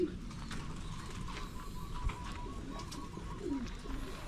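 Pigeons in a loft, young birds among them, give soft low cooing calls against a steady murmur of rustling and movement, with no voices heard.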